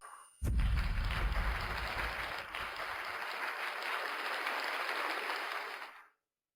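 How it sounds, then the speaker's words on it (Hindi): Applause breaks out suddenly after a brief quiet moment to welcome a biotech company president, a dense even burst of clapping that holds for several seconds and then cuts off abruptly. "चलिए अब हम तालियों के साथ स्वागत करते हैं"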